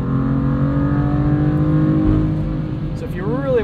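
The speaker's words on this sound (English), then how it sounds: "So if you really want it to rev out, it will" A 2015 BMW M4 with DCT gearbox revs out hard under acceleration, a loud, steady, rising engine drone heard from inside the car that eases near the end, with no talking.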